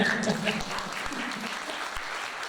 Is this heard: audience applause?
yes